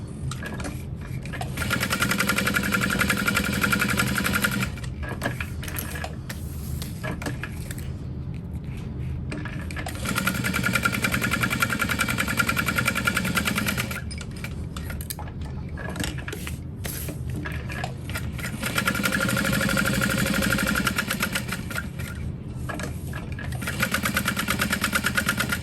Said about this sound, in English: If I were sewing through a single layer of this vinyl on this machine,